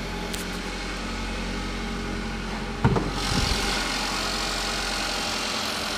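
A 2013 Chevy Malibu's 2.5-liter engine idles steadily and smoothly, a low continuous hum with a brief clunk midway and faint air-conditioning hiss behind it.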